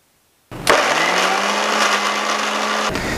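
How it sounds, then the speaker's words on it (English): An electric grinder runs on dry amla with no liquid added. It starts abruptly and keeps up a loud, steady whirring motor hum with a rattling, gritty edge, heard alone. "So now we have tried to grind it without using any of the liquid."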